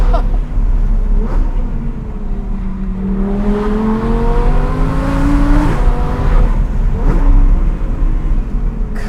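Audi R8 V10 Plus with a center exit exhaust, revving and pulling hard while driving, rising engine tones sweeping up near the middle, loud and steady throughout.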